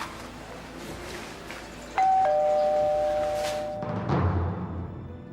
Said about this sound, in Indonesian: Suara bel barusan nyampur sama suara yang ada di HP itu.